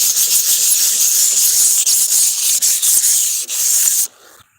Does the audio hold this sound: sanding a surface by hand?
yes